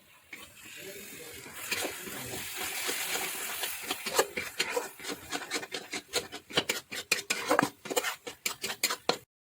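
A spoon scrapes and stirs egg curry masala with boiled garlic frying in a pan, a soft sizzle building into quick, rhythmic scraping strokes that grow sharper and more separated toward the end.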